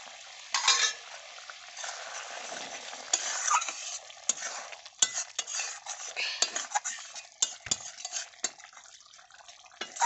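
Ridge gourd frying in ghee in a pan, with a spoon stirring and scraping through it. Soft sizzling runs throughout, broken by irregular clinks and knocks of utensil against the metal, close up and fairly quiet, with no talk.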